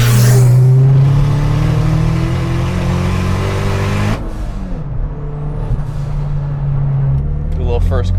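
A Dodge Caliber SRT-4 engine revs loudly in first gear, its tone climbing, then breaking off and settling into a steadier drone. The sound is close and strong, with a voice briefly heard near the end.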